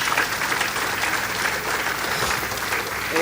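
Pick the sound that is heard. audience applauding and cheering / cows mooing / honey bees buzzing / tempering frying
audience applauding and cheering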